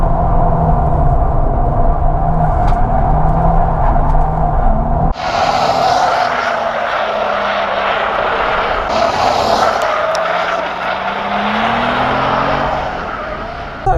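A drift car held in second gear on dry pavement, its engine roaring loud and close while the tyres squeal and skid continuously, the pitch shifting as the slide goes on.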